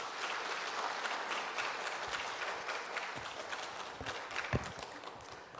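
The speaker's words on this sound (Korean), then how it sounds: "박수로 환영하겠습니다." A church congregation at a prayer meeting claps to welcome a pastor, giving quiet, distant-sounding applause that stays dense and steady, with a few sharper individual claps standing out near the end.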